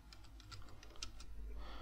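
Soft, sparse keystrokes of Java code being typed on a computer keyboard, quiet and irregular over a low steady hum.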